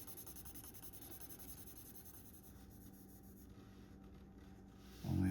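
A marker rubs steadily across paper in continuous scratchy strokes, close and quiet, with a brief louder bump at the end.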